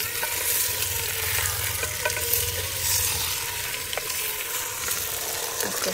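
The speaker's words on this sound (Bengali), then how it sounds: "আমি একটু আস্তে আস্তে নেড়ে চেড়ে দিচ্ছি" Chicken curry is stirred slowly in a clay handi over a village fire, with a soft continuous sizzle and intermittent scraping strokes of a spoon against the pot.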